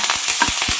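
Curry leaves sizzle as they hit hot oil in a pan while a South Indian tomato rice is cooked, a loud, steady frying hiss with repeated stirring scrapes, no voices.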